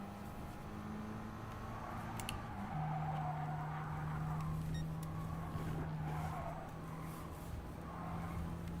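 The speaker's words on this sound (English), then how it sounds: "The car was gasping for a gear switch" A Mercedes race car engine in a racing video game drones at a steady high pitch, shifting gear partway through, with tire noise and a faint whoosh of passing cars.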